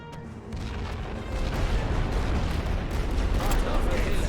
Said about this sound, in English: I just hit them with artillery